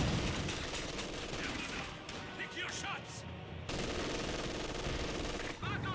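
Rapid machine gun bursts and scattered gunfire ring out in a Company of Heroes 2 match, loud and continuous, with a commentator talking over the battle.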